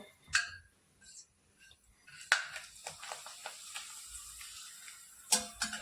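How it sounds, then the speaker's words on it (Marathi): Thin potato wafers frying in hot oil over a medium gas flame, with soft scattered crackles and light ticking bubbles against near-silence, plus a few sharper clinks of a utensil. "तेल आपलं छान गरम झालंय आता वेफर्स तळून घेऊ"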